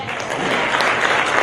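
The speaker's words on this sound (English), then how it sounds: "I know they need a bigger round of applause." Concert audience applauding young performers, a thick, continuous roar of many clapping hands that swells slightly toward the end of a brief burst.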